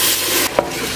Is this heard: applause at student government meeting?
no